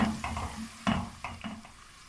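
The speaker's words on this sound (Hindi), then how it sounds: "तो ये सारी चीज़ें अच्छी तरह फ्राई हो चुकी हैं।" Whole garam masala spices, added after ginger and garlic browned, fry in a pan for a carrot and pea pulao, with a few sharp stirring scrapes over a soft, steady sizzle, close and moderately loud.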